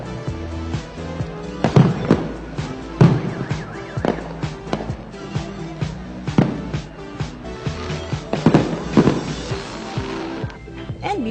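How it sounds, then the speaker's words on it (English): Firework display over Seaside Boulevard in the Bay Area, with repeated sharp bangs and crackling bursts arriving in irregular clusters, loud and fairly close, with a steady rumbling bed between the explosions. "watch out for the firework display at the Seaside Boulevard at the Bay Area"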